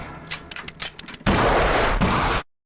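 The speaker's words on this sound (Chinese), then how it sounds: "爬上屋顶，对着屋内一通乱扫" Rapid bursts of gunfire crackle, then a sustained loud barrage of shots roars for over a second before cutting off abruptly.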